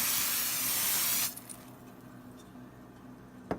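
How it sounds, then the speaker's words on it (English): Olive oil cooking spray is sprayed into a pan for pork chops in one steady, loud hiss lasting about a second, then faint kitchen sounds and a small clink. "First, you're going to spray the pan."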